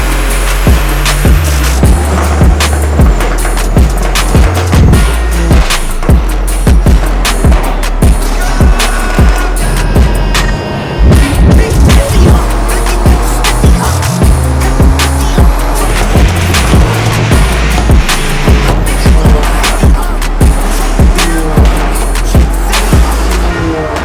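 A Mercedes W204 C63 on a dyno at full load, engine roaring loud and continuous for the whole run with a rapid, gritty pulse, briefly dropping off near the middle before climbing back hard.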